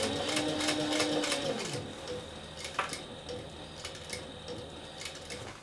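A sewing machine stitches a cork envelope wallet, a fast motor whir with rapid ticking needle strokes that slows and changes pitch partway through, then continues as lighter, uneven clicking, close and fairly quiet.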